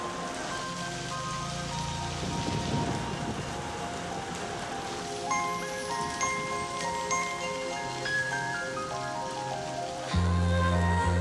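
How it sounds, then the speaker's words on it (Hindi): Rain begins falling in a film scene, a steady patter on surfaces under a sustained musical score, with no voices heard. "बारिश भी शुरू हो गई।"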